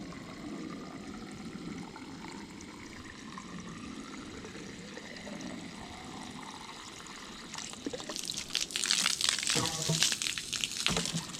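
Water fills an RV's fresh water tank with a steady trickling stream, then about two-thirds of the way through turns to louder sputtering splashes as water spurts back out.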